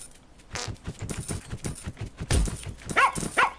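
A dog in the farming video game Plantera barks at a fox, giving a few short barks amid busy game sounds, with chimes and clinking near the end.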